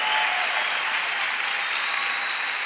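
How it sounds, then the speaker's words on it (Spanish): A church congregation applauding, a dense, even wash of many hands clapping continuously and loudly, with no speech over it. "De un aplauso más fuerte, celébralo, porque sí es hermoso."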